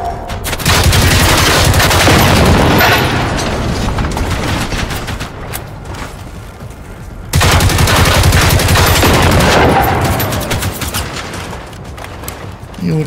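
Automatic gunfire in the video game Generation Zero comes in two long, loud bursts of rapid shots, each easing off before the next volley starts.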